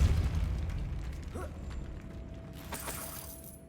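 A Depulso force spell blasts in Hogwarts Legacy gameplay: a heavy low boom at the start that decays over a few seconds, followed by faint magical shimmering and a soft crackle, with no talking.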